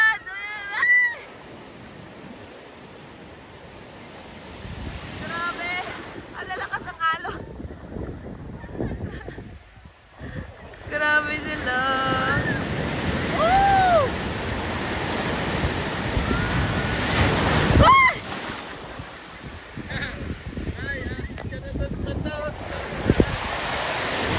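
Strong surf pounds the shore at Baler, Aurora, a loud rushing roar of breaking waves with gusty wind buffeting the microphone, while people talk and exclaim over it.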